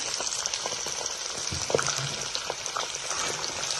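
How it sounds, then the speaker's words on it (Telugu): Fish pieces frying in heated oil make a continuous crackling, bubbly sizzle at moderate level, with a few soft clinks of utensils and no speech. "ఇప్పుడు ఆయిల్ వేడెక్కిందండి ఈ ఆయిల్లో ఇప్పుడు ఈ ముక్కలు వేసేసుకుందాం కొంచెం కొంచెంగా వేసి ఫ్రై చేసుకున్నాము"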